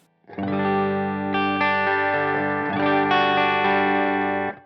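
An electric guitar with a humbucker pickup through a Line 6 Helix amp modeler rings out sustained chords, changing a few times, with a thick, slightly overdriven tone and effects shimmer.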